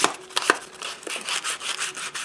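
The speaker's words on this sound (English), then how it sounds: "now I'm sanding the edges up to 220 grit" The edges of a cut-down wooden piece for a guitar repair are rubbed with 220 grit sandpaper in short, close scratchy strokes with brief pauses between them, and no talk.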